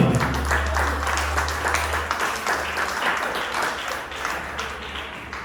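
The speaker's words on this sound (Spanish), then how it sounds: "Démosle un aplauso al Señor." Congregation applauding in a church service, steady dense clapping from many hands at moderate distance, sustained throughout with a low hum underneath.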